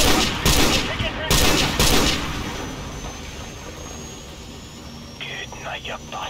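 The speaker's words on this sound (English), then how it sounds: "Incoming helicopter! Snipe the bastard! Guys, shoot the helicopter!" Helicopter rotor roar and bursts of automatic gunfire in Call of Duty 4: Modern Warfare Remastered, heavy loud blasts early on fading into a steady engine drone, with a few more sharp shots near the end.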